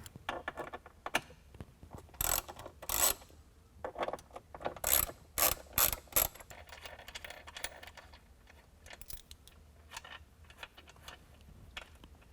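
A T40 Torx driver works the bolts of a Jeep Wrangler soft top, giving bursts of quick clicking ratchet sounds separated by quieter handling noises, fairly close and with no voices.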